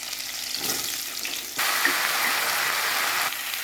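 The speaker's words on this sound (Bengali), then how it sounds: "এবার ঝিঙেগুলো ছেড়ে দেবো।" Sliced ridge gourd dropped into hot oil in a wok over high flame, tempered with green chillies, bursts into a loud, steady sizzle partway through, continuing strongly to the end with no talk.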